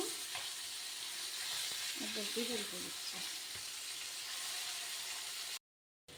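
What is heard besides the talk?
pomfret fish frying in oil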